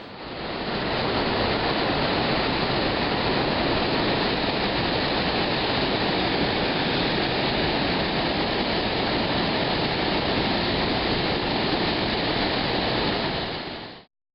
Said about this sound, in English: You can actually get directly underneath the waterfall, which is pretty impressive.